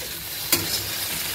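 Bitter gourd frying in a pan, a steady close sizzle and hiss with a single brief clink of a utensil partway through.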